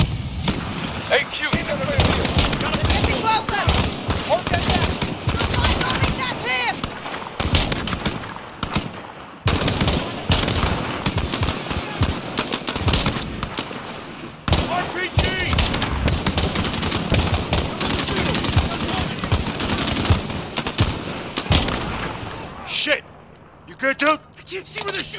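Sustained automatic gunfire and explosions fill a Modern Warfare firefight at an embassy, with dense bursts of shots rattling almost continuously under shouting voices, briefly dropping out before resuming loud and close.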